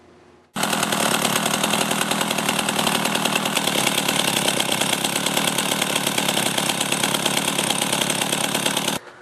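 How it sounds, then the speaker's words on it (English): A chainsaw engine runs loud and steady after a quick start, idling with a faulty clutch so the chain keeps turning around the bar, a constant buzzing drone that cuts off abruptly near the end. "I'll start it up and just notice when it's idling how the chain is constantly turning around the bar."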